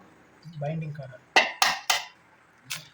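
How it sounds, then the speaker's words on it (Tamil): A voice speaks briefly, then metal utensils clink sharply against a bowl three times in quick succession while egg is added to spice masala for quail fry, with one more clink a moment later. "இப்போ நம்ம மசாலாவோட முட்டை சேர்த்துக்கிறோம்."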